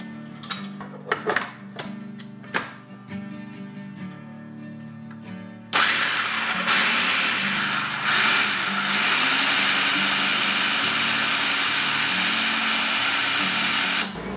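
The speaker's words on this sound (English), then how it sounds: "I'll be using my blender to juice them" A blender switches on abruptly and whirs steadily as it juices fresh garden tomatoes, a loud continuous motor roar that follows a few softer clinks and knocks.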